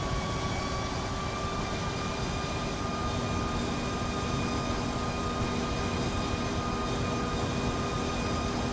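Airliner engines in the X-Plane flight simulator give a steady, faint whine with a low drone underneath. The sound holds even and continuous, with no voices.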